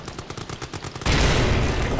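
In Amnesia: The Bunker, a thrown grenade goes off after a delay: a run of soft rhythmic footsteps or ticks, then a sudden loud, close, sustained explosion that roars to the end.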